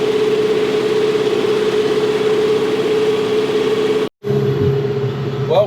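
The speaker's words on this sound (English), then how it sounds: "I get the full swath when I make it that turn with the tractor and the bush hog" A tractor engine pulling a bush hog mower through overgrown field grass drones loudly and steadily with a constant hum, briefly cutting out near the end before resuming.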